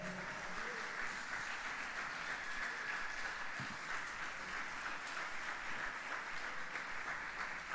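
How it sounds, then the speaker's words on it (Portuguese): Sustained applause from a church congregation, steady dense clapping filling the room at moderate level with no talking over it. "Essa palavra merece uma glória a Deus, merece um aplauso, amém?"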